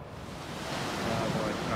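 Wild Atlantic surf near Tarifa roars as a broad, steady wash of breaking waves, building gradually louder, with wind buffeting the microphone.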